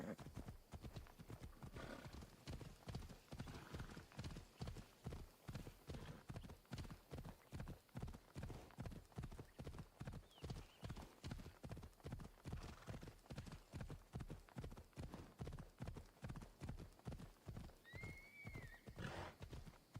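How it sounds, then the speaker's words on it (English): Horse hooves clip-clop steadily in a video game as a mount travels, a regular rhythmic trot running throughout with occasional whinnies and neighs near the end. "Interesting how it auto slows down the horse"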